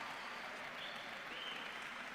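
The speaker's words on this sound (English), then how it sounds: "A big round of applause for John Mir and Luca Marini" An audience applauds MotoGP riders Joan Mir and Luca Marini of the Repsol Honda team, a faint, even patter of many hands heard at a distance and sustained without pause.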